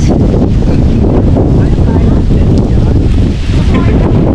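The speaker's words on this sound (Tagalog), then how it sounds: "Lakas ng hangin dito guys, oh." Strong wind roars and buffets the microphone continuously at a hilltop campsite beside a tent, a dense low rumble with gusty swells throughout.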